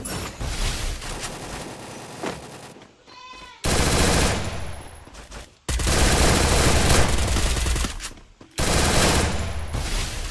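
Rapid bursts of automatic gunfire from SCAR and MP40 rifles crackle loudly through a solo-versus-squad video game shootout, coming in dense volleys separated by short pauses.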